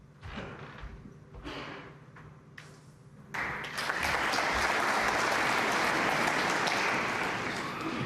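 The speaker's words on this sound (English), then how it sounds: "Applause" Snooker audience applause in the arena at a Northern Ireland Open final, opening with a few quiet thuds and isolated claps before swelling into a full, steady round of clapping that carries to the end.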